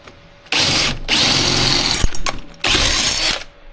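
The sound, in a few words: drill drilling a hole through truck floor metal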